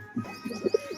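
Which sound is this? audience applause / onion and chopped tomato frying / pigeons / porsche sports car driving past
pigeons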